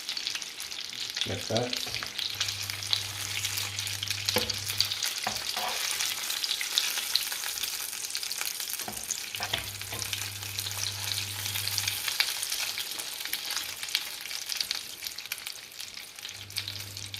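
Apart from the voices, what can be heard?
breadcrumb-coated meatballs frying and being flipped in a pan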